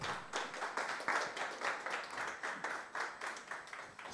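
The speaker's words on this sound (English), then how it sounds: "Let's give him a round of applause." An audience at a business clinic event applauds a speaker coming onto the stage, a steady, moderately faint patter of clapping from many hands lasting several seconds.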